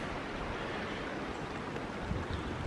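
Spring water runs straight down from the hills in a steady, broad rush with no break, mixed with some wind across the microphone.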